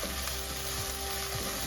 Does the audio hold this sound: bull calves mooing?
no